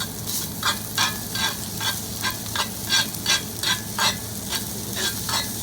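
Fried rice sizzles in a cast iron skillet while being stirred, with a continuous crackling hiss punctuated by a steady rhythm of about a dozen scraping strokes, close up and clear.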